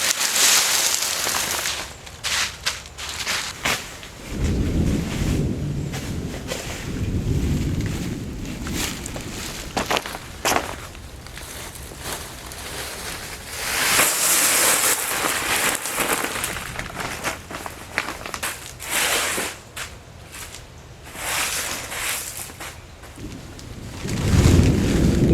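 A thunderstorm pours rain steadily around an outdoor garden pond site, with several loud rumbling thunder rolls building and fading over the downpour, the heaviest low booms arriving partway through and again at the end.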